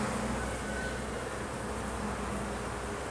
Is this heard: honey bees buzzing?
yes